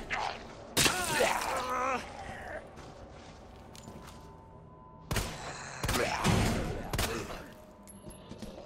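Gunfire in Resident Evil 2 (2019) on Xbox One S: sharp, loud shots in separate bursts, a few at the start and a cluster later, with reverberant tails and quieter game ambience between them.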